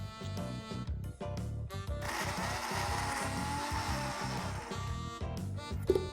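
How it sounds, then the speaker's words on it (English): A kitchen blender crushing 300 grams of chocolate cookies, starting with short choppy pulses, then running in a loud sustained whir for a few seconds before stopping and sputtering in brief bursts. "I'm going to crush or stick in my blender 300 grams of chocolate cookies."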